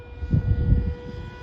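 An EDF FB-28 radio-controlled model plane passes overhead outdoors, its ducted fan giving a steady whine that swells and fades briefly over a low rumble of wind.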